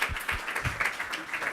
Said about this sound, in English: So a solve of applause to Isa